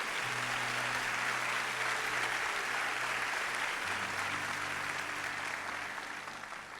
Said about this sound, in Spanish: Si ese aplauso es para Cristo